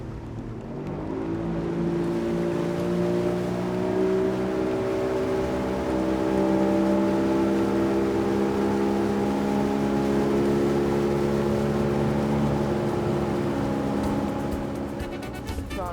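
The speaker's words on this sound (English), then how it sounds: "So now here, it's gonna be my first time on a jet car." Jet car engine running on water off Shark Island in Ghana, a loud, steady motor drone with an even, sustained hum that grows slightly and holds throughout, with no talking.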